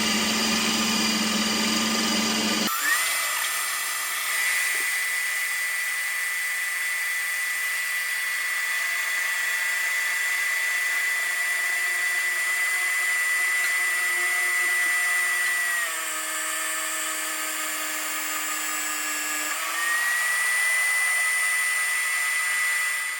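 A protein ice cream maker runs on its light ice cream setting with a loud, steady motorized whir. The hum holds for the full stretch, with small shifts in pitch partway through and no talking.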